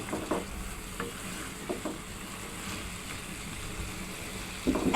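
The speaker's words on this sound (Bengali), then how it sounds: "সব রকম মশলা যাতে তরকারির গায়ে লেগে যায়, এই কারণে আমি একটু ভালো করে নাড়াচাড়া দিয়ে নিচ্ছি" Spiced katla fish curry with bitter gourd is stirred in a pan: a few soft scraping strokes over a quiet, steady sizzle, close by and low in level.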